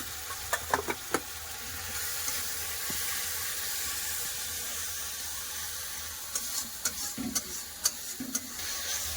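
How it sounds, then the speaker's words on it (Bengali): Spices for a rohu fish curry being sautéed in oil with green and dry chilli, cumin and coriander powder, a low steady sizzle broken by bursts of clattering stirring at the start and end. "এবার সব একসাথে ভালো করে কষে নেবো"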